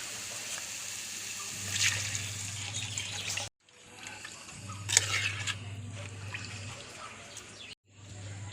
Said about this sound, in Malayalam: അതൊക്കെ വാടി വന്നു ആവശ്യത്തിനുള്ള വെള്ളം ഒഴിക്കാം.